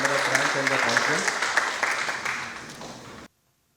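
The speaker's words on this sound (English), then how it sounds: "Applause for sir." An audience applauds at an inauguration ceremony and conference, a dense burst of clapping from a crowd that fades and stops abruptly after about three seconds.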